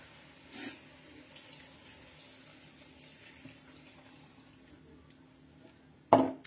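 Water splashes briefly into a cooking pot for a potato stew, a short faint pour near the start, then a quiet stretch before a louder burst of running water at the end.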